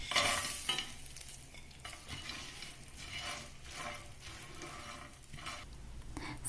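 Roasted idlis being mixed in a pan with a coconut oil tadka of mustard seeds and curry leaves, giving soft stirring scrapes over a low background sizzle, fairly faint, with no talk.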